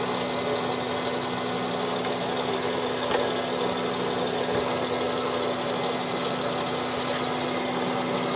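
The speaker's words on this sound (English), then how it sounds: "And turn on our Lehman power feed, which by the way is also American made." A Lehman power feed drives the table of a Bridgeport milling machine while a gear blank is cut, giving a steady, continuous mechanical hum with a constant low drone and a few faint clicks throughout.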